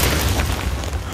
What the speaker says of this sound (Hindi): वाओ, ये क्या हुआ, धमाका, मतलब ये सब फट सकते हैं दोस्तों।